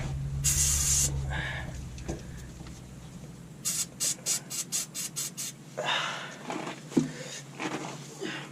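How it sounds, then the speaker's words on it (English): Spray can squirting onto truck parts being readied for an MOT, several short hissing bursts in quick succession plus a few longer sprays, close and fairly loud, with no talking over them. "Give these a squirt."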